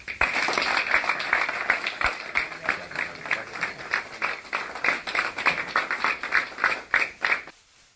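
A crowd claps and cheers for a leader at a gathering, dense applause with sharp claps running continuously and loudly before cutting off abruptly near the end.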